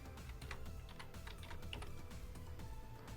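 Code is typed on a computer keyboard in the Lazarus environment, producing a steady run of quick, close key clicks over a constant low background hum.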